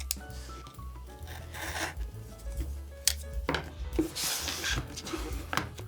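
A seal sticker is peeled off the packaging of a Big Idea Design Bit Bar Inline Max titanium EDC tool, giving close, quiet scratchy rubbing and crinkling in irregular bursts.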